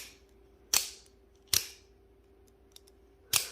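Three sharp, crisp snaps of a Microtech OTF knife blade firing out, spaced apart and close up in a quiet room, with no talking.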